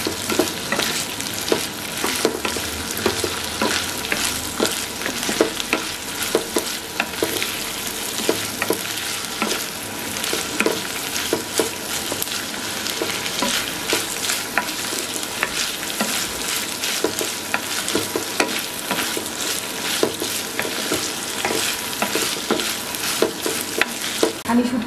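Dried mola fish frying in oil, a steady, loud crackling sizzle with dense popping that runs unbroken for the whole stretch, close up and with no voices.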